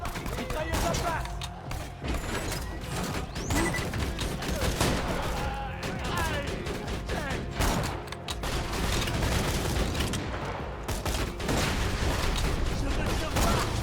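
Rapid, sustained machine-gun turret fire in Borderlands 2, a dense crackling fusillade running loud and continuous throughout with heavy booms mixed in and a voice talking over it.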